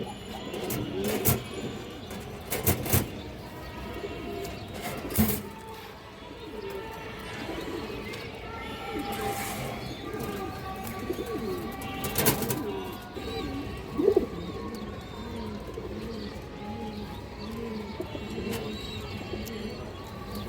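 Indian high-flyer Kaldom pigeons coo in repeated low, rolling phrases throughout, with sharp clattering knocks and flaps scattered over the cooing at close range.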